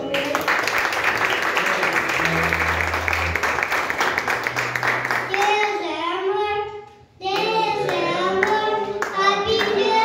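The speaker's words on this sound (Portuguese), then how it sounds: "Você pode aplaudir ao Senhor?" A church congregation applauding during a worship service, steady loud clapping for several seconds, then singing voices take over in the latter half.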